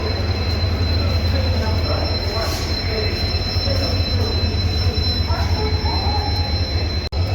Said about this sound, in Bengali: বিশাল বড় স্টেশন দেখুন খড়গপুর